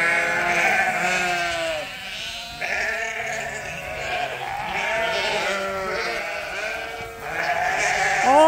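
Several sheep bleat over and over, overlapping wavering calls from a flock close by, continuous for the whole stretch with no talking.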